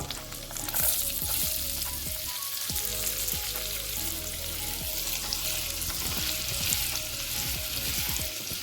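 Chopped onions frying in a pan give a steady close sizzle and crackle throughout, with repeated scraping stirs and soft clinks over the frying; background music plays faintly.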